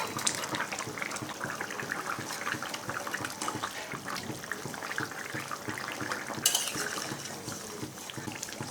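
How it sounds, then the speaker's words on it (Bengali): Potatoes simmering in a pot of thin tengra fish curry, with a continuous watery bubbling and splashing as fish goes in, soft and close with no voices. "আলুগুলো সিদ্ধ হয়ে আসছে। এই পর্যায়ে আমি মাছ দিয়ে দেবো।"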